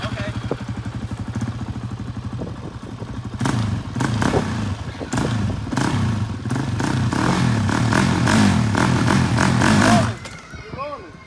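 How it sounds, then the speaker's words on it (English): An ATV engine idles with a rapid chugging putter, then revs up louder and rougher as the clutch is popped, holding near-full throttle for several seconds before cutting off abruptly. People talk briefly near the end. "The same time you pop that clutch is when you hit that throttle."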